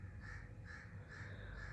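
Crows caw repeatedly outdoors in a steady rhythm, several calls spaced evenly over a constant low background rumble.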